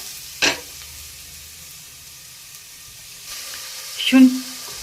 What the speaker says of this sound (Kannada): ಚೆನ್ನಾಗಿ ಹೊಂಬಣ್ಣ ಬರೋವರೆಗೆ ಈರುಳ್ಳಿನ ಫ್ರೈ ಮಾಡಬೇಕು